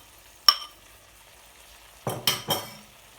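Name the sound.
chopped tomatoes added to a pan and stirred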